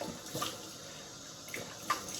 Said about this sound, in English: All right, cold water